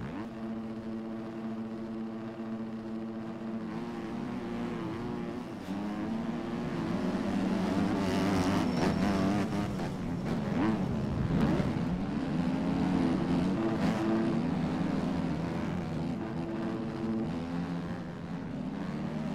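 Motocross bike engines race in MX Bikes, a continuous buzzing whine that rises and falls with throttle, swelling louder in the middle, with no talking.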